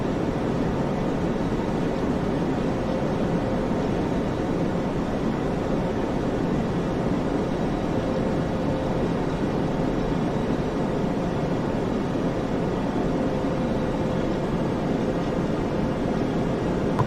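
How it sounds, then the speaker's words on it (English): Jet engines of a PMDG 737-900 in a flight simulator game hum steadily at cruise around 12,000 feet, a constant broadband drone with no change in level and no talk over it. "see there, you can hear the engine humming in the background."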